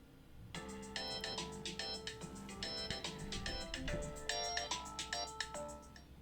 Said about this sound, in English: I was filming a YouTube video when my phone rang